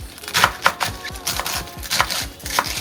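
Vegetables for motsunabe, including cabbage and bean sprouts, chopped on a cutting board: a steady series of close, crisp knife strikes in an uneven rhythm, with no talking.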